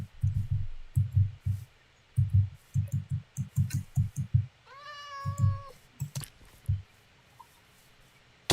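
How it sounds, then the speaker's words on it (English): A cat gives one clear, drawn-out meow partway through, close by, amid a steady run of low, dull thumps and a few clicks. "I have a cat!"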